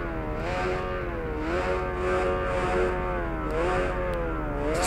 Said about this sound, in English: Now start your engines